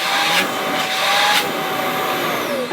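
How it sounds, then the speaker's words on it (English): A Milwaukee 0920-22HD cordless vacuum runs steadily with a loud, broad whooshing roar and a high whine, continuous and close throughout. "This thing feels like a 6 horsepower shop vac."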